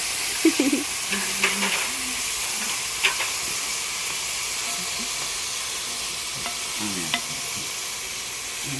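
Jackfruit and beef sizzling in a pan as they are stirred, a continuous loud hiss with occasional scraping clinks of the spoon against the pan.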